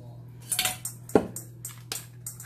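A knife slices rinsed hot peppers in half on a board, giving a few short, sharp cuts and clicks close by over a low steady hum.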